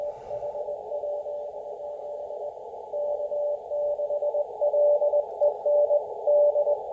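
An mCHF transceiver plays through an external speaker: a narrow band of hissy receiver noise with an intermittent on-off Morse tone keying over it, steady and moderately quiet.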